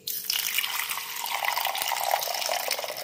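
Water pours steadily into a container of basil seeds set to soak for an iftar drink, a continuous close splashing rush with no talking.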